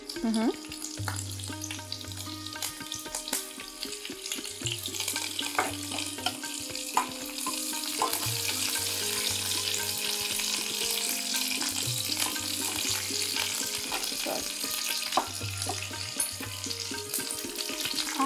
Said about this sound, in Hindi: थोड़ा सा कड़ी पत्ता डालेंगे।